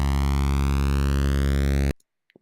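Steady buzzy default-patch tone from a Repro-1 monophonic synthesizer, a single sustained bass note rich in harmonics, held loud and even for about two seconds before cutting off abruptly into silence.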